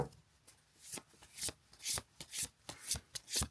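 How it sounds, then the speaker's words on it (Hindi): Tarot cards being shuffled by hand, a rapid series of close, crisp riffling and flapping bursts in an uneven rhythm, quiet and alone without talk. "मैं इसको एक बार कार्ड्स को अच्छे से शफल कर लूँ"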